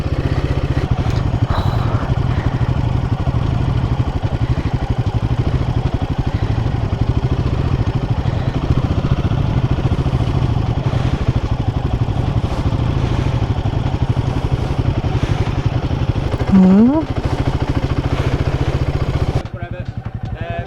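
A motorbike rides a rough green lane off-road, its engine droning and clattering continuously close by, with brief revs and bumps over the uneven ground before it suddenly drops off near the end.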